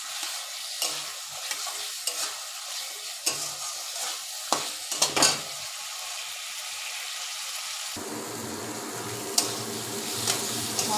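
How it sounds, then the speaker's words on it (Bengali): Fried potatoes are stirred into spiced oil in a pan, with a steady sizzle and the scrape of a spoon in irregular strokes close by, then a brief louder run of clattering stirs before a calmer, hissing fry. "আলুটা দিয়ে একটু কষাবো।"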